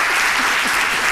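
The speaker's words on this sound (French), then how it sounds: "merci de les applaudir très très fort" Sustained, dense applause from a studio audience for fashion models on a live midday TV show, loud and steady through the whole moment with no voices over it.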